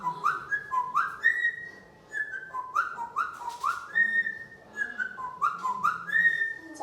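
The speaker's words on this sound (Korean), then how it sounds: "기분도 좋으니까 휘파람 불러보자." A parrot whistles a bright, repeated melodic tune, phrases rising and falling in quick succession, close and clear against a faint room background with no talk.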